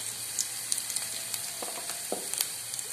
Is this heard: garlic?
yes